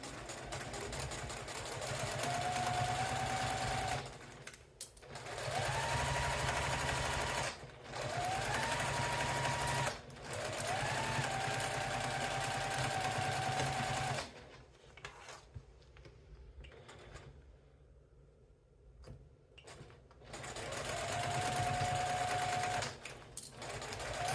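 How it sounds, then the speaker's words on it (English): A sewing machine stitches through craft fuse interfacing in sustained whirring runs of a few seconds each, separated by brief stops, then falls quiet for several seconds before a final run. "you can kind of hear it kind of gunk up as the needle's going"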